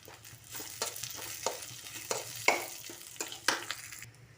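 Chopped onions and two green chilies fry in a pan, giving soft sizzling broken by a series of sharp stirring scrapes every half second or so, close and moderately loud, with no talking.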